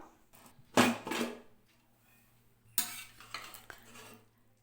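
A pressure cooker lid opens on freshly cooked rice with two bursts of sharp metallic clanks and clinks, close by, separated by quiet pauses.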